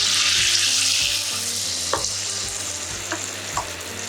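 Batter-dipped munthiri kothu balls frying in hot oil give a steady bright sizzle with soft stirring clicks and a few light taps, close and continuous, with no voices.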